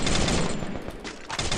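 Rapid automatic gunfire in the mobile shooter Free Fire, a loud dense burst of shots that briefly thins and then resumes.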